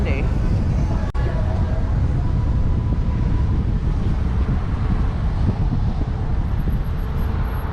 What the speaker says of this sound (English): Whew, must be windy.